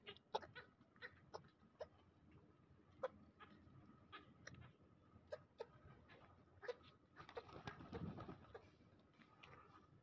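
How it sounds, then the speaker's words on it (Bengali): Pigeons in a coop give short, hoarse, clucking calls, repeated irregularly and fairly close, with a brief flurry of rustling movement near the end and no talking. "দেখেন কবুতরটা কিভাবে ডাকতেছে।"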